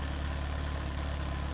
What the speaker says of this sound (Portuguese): Lá vem o trator do Zinho.